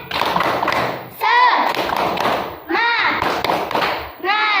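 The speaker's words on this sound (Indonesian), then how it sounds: "Tepuk semangat." Schoolchildren in a combined grade 4 and 5 classroom do the rhythmic 'tepuk semangat' clap, loud close thumping beats in bursts, alternating with their chanted voices.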